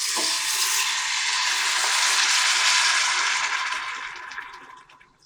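Broth poured into a pot of softened, translucent onions for a braised pork stew, a loud, close rushing hiss and sizzle of liquid hitting the hot pan that fades away toward the end.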